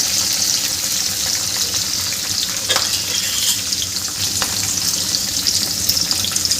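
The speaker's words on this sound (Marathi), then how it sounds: "मिरच्या घालून घ्यायच्या आहे याच्यामध्ये आणि छान परतून घ्यायचं आहे" Green chillies and peanuts fry in oil in a pan with a loud, continuous sizzle, and a few soft scrapes of a stirring spoon come through along with it.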